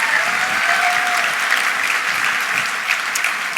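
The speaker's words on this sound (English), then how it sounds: "if you guys want to give them a round of applause" Audience applause during a keynote at an education conference in Long Beach: loud, full, continuous clapping from a large crowd, steady for the whole stretch and not overlaid by speech.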